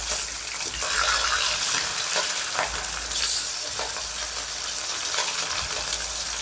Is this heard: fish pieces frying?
yes